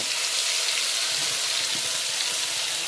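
Poppy seed paste, made with cumin and green chili, hits hot oil in a pan, producing a steady, loud hissing sizzle with no pauses and no voices.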